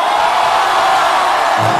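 Concert audience at a live show in a large auditorium shouting and cheering in a dense, sustained roar, loud and unbroken throughout.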